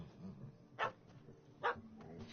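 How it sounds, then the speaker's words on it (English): Two sharp yaps from a small dog in The Witcher 3, spaced under a second apart over a quiet low ambient bed, moderately close. "Don't know how to handle yappy little dogs?"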